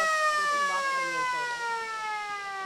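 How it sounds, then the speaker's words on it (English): At an under-15 Australian rules football match between the Lions and the Saints, a loud sustained siren sounds for three-quarter time, its tone sliding slowly downward throughout. "As the siren goes to three-quarter time."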